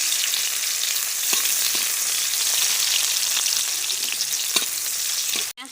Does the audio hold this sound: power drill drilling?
no